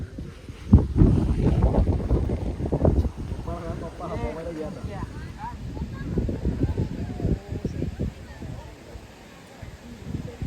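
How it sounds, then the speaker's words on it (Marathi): Strong monsoon wind gusts sweep across Matheran hill station, a steady broadband roar and buffeting against the microphone as people talk throughout. "हवा पण खूप सुटली"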